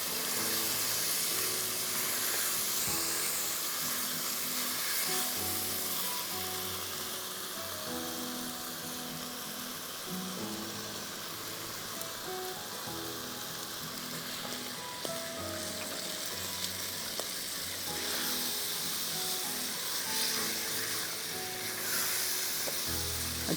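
Minced meat sizzles steadily in a pan as yogurt is added a little at a time and the mixture is sautéed, a dense continuous crackle with occasional stirring knocks and no talking.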